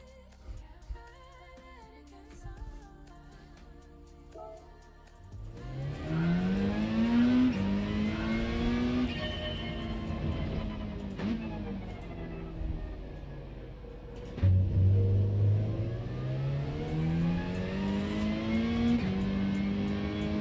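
A Peugeot RCZ in a racing video game at the Red Bull Ring on a wet track. Its engine revs up through rising gear pulls in two strong acceleration runs, loud and close, after a quieter start.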